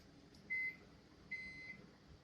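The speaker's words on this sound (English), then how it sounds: "we want to pop this in the microwave real quick" A microwave oven is melting butterscotch, with a faint low hum and two short electronic beeps, the second one longer and more drawn out.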